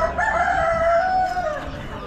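A rooster crows once, clear and fairly close, a rising then sustained call amid the low murmur of an Amish animal auction, with other chickens faintly clucking and no speech.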